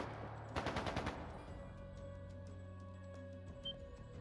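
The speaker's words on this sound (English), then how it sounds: "That didn't sound good. That sounded like gunfire." Gunfire in the video game Trails of Cold Steel II: a quick burst of about five rapid shots, then a sustained tonal game soundtrack with faint clicks, fairly quiet overall.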